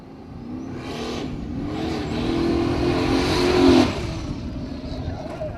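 A Formula Offroad race car in Akureyri, Iceland, driven wildly by a rookie, its engine roaring and climbing in pitch as it revs hard, then dropping off abruptly, with a commentator talking over it.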